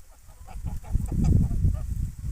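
Three-month-old Mammoth geese honk in an overlapping, low, throaty chorus that swells and stays busy throughout, close by.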